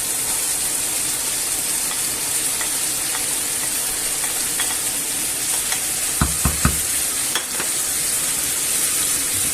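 Onion, garlic and red pepper fry in a pan with a constant bright sizzle, while a few brief knocks and scrapes from stirring stand out near the end, no voices.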